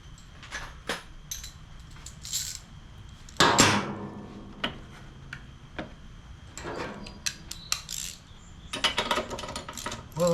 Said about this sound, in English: let's grab a spark plug wrench